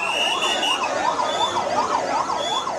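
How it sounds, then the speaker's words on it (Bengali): An ambulance siren wails in a steady rising-and-falling cycle at a burn and plastic surgery hospital in Bangladesh. It is loud and close, with no voices over it. "একের পর এক দগ্ধ শিক্ষার্থীকে নিয়ে হাসপাতালে ছুটে আসছে অ্যাম্বুলেন্স"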